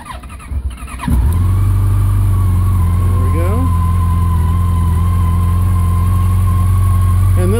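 A cold 2014 Yamaha FJR 1300 ES motorcycle engine cranks and catches, then settles into a steady, loud, even idle heard up close.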